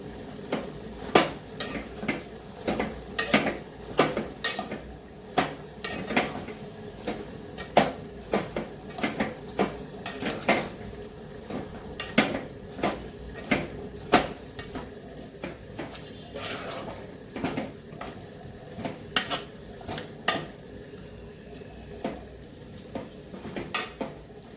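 A spoon stirs turmeric and red chili powder into greens in a metal pot, giving repeated sharp scraping clinks in an uneven rhythm over a soft frying hiss, close and clear, with faint talk now and then.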